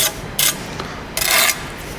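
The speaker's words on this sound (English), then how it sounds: "So, we're scraping our mortar and we're checking that those two lines are parallel and square." A bricklaying trowel scrapes mortar on brick in two short, rasping strokes, close and crisp, separated by a brief pause with faint handling between them.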